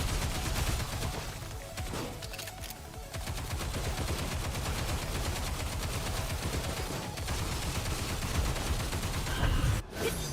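Rapid automatic gunfire from shooting enemies in the video game Nikke, dense and continuous bursts over game music and effects, loud throughout with a sharp burst near the end.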